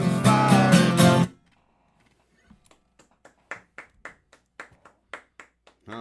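One person clapping slowly and sparsely just after a burst of loud music ends, a dozen or so soft, separate claps spaced out in a quiet room.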